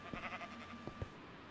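Sheep bleating in the Minecraft video game, a few short, faint bleats at moderate distance, one after another, with no talk over them.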